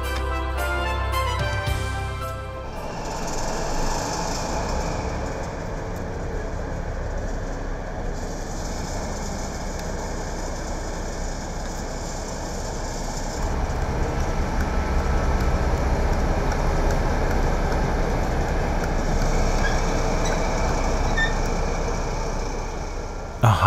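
Class 218 diesel locomotive rolling out, a steady rumbling diesel drone and rolling noise that swells partway through, with a brief clattering start.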